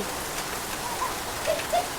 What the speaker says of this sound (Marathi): किती पाऊस पडायला लागलाय